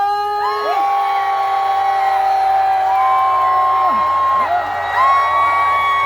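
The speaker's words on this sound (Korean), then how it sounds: "다시 한번 박수와 함성!" A large crowd at an outdoor concert in the rain cheers and shouts continuously, loud and sustained, with many overlapping whoops and yells and a few rising and falling calls standing out.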